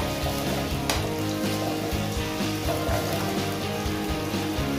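Carrots and potato sauté in a pan for beef stroganoff with a loud, continuous sizzle and rhythmic scraping stirs, one sharp clatter standing out early.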